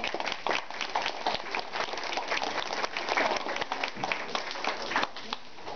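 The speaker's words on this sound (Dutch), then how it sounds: "mag ik een hartelijk applaus voor de kanjes nog eens even" Warm applause from an audience of parents and grandparents for a group of children, dense steady clapping that holds through the whole stretch at a moderate level without pause.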